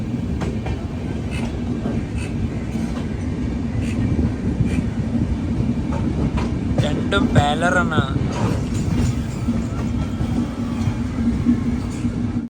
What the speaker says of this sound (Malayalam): ഗോരഖ്ധാം സൂപ്പർ ഫാസ്റ്റ്.